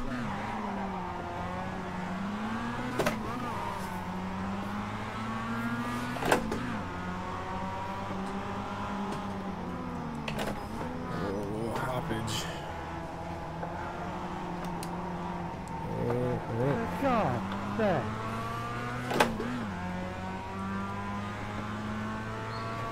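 Mazda race cars lap Tsukuba in iRacing, engines droning and revving steadily with gear shifts and repeated sharp tire squeals through the corners, loud and continuous with no talk.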